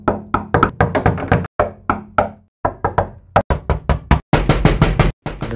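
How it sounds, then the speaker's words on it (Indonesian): Very loud, forceful knocking pounds on a door in rapid bursts of repeated blows, separated by brief pauses, close and dominant with no other sound. "ada suara ketukan pintu yang sangat kencang,"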